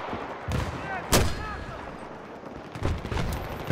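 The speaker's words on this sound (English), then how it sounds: "I'm gonna use the mortar, Sam." Mortar rounds fire in Battlefield 3 on the Noshahr Canals map during a team deathmatch, sharp booming launches at irregular intervals over a rumbling battlefield backdrop, with faint speech in the mix.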